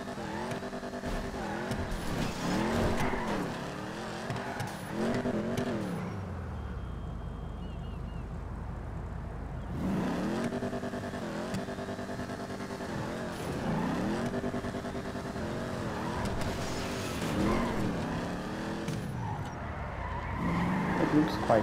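Vapid Hotknife muscle car driving and skidding in GTA Online, with a steady engine drone that rises and falls through gear changes and a brief quieter lull midway, while someone talks over it throughout.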